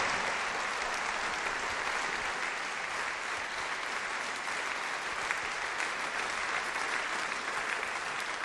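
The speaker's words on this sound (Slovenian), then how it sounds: "tako je aplavz, seveda" Sustained audience applause fills a charity concert hall, a dense steady wash of many hands clapping throughout with no break and no voices over it.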